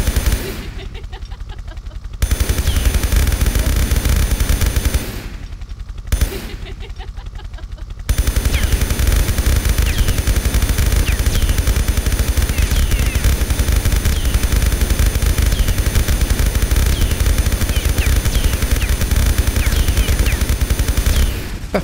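Rapid, relentless gunfire in Tomb Raider 3, loud continuous machine-gun-style bursts with shells flying out, broken by a few brief pauses.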